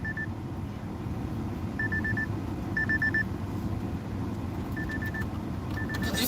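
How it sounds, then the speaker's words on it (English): A wristwatch alarm sounds in short bursts of quick, thin electronic beeps, repeating in clusters over steady background noise and a low engine-like rumble. "That's the alarm from my watch"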